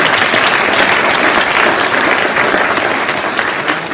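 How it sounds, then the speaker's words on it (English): A crowd claps loudly and steadily at a high school athletics hall of fame ceremony, a dense continuous round of applause with no voices over it. "They came a long way, so give them a couple claps."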